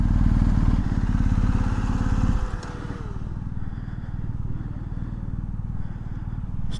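BMW R1250GSA boxer-twin motorcycle engine at walking pace, a loud close throbbing idle that drops to a lower, steadier thrum partway through, with no talking.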